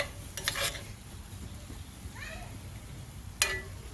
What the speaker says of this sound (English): stirring up the corn here